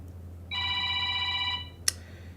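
A telephone in a shop rings once with a bright electronic tone lasting about a second, followed by a sharp click, heard clearly over a low hum with no speech.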